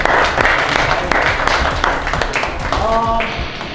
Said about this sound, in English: Let's everybody give them a round of applause.